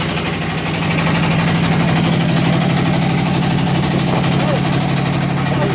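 A boat's engine runs on the Jingkem river (Sungai Jingkem) with a steady, droning motor hum that holds loud and even throughout. People's voices talk over it.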